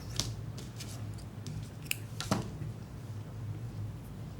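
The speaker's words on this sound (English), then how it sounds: "I'm going to change my color here, so I'm going to cut the yarn." Scissors snip through crochet yarn, several quiet crisp cuts in quick succession, close by and faint over a low background hum.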